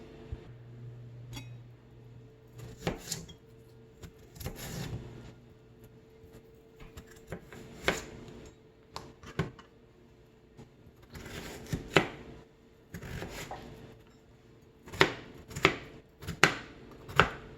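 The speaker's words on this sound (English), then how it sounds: "let's just peel these, chop these, and boil them for about 3 to 5 minutes until soft." Potatoes being peeled and chopped on a cutting board in a home kitchen, scattered knife knocks that grow into a run of sharp, evenly spaced chops near the end, fairly quiet and close with no talking.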